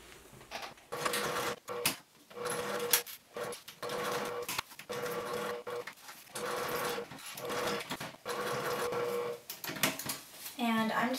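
A sewing machine stitching across a bag strap, running in a series of short whirring bursts separated by brief pauses, with a person talking over it.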